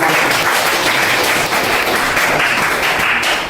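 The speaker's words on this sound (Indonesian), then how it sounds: "saya minta tepuk tangan buat kalian" Students in a classroom applaud together, a dense, steady patter of clapping that holds at an even, fairly loud level for a few seconds with no talking over it.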